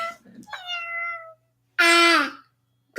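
A cat gives two clear, close meows indoors, the second louder and longer, with a short pause between them and a faint low hum underneath.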